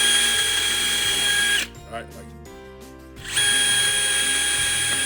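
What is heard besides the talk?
power drill drilling pilot holes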